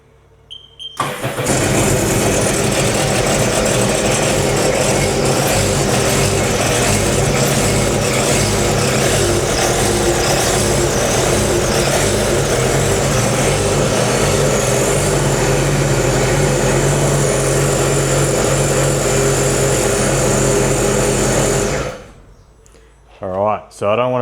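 Sea-Doo 300 RXT jet ski engine fires up and runs steadily at a loud idle for about twenty seconds, then shuts off abruptly, leaving near silence with faint noises.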